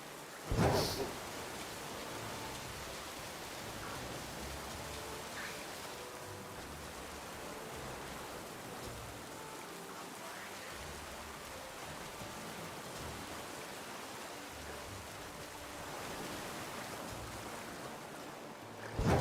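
Rain falls in a video game, a steady wash of broadband hiss that runs evenly throughout, moderately faint, with a couple of brief louder bursts at the start and end and no talk over it.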